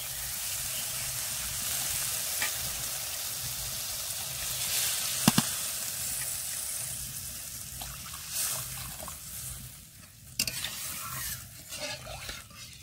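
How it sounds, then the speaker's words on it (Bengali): Water hits a pan of fried spice paste for a fish curry, sending up a steady broad sizzle with bubbling and trickling, a couple of sharp metallic knocks and stirring scrapes over roughly thirteen seconds. "মশলাটা ভালো করে কষে নিয়েছি, এবার জল দিয়ে দেব।"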